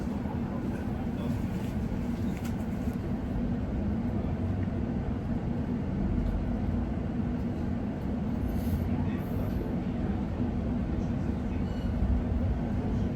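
A London Overground Lioness line train to Watford Junction rumbles continuously from inside the carriage, a steady loud low roar with rail clatter throughout, while a voice speaks intermittently over it.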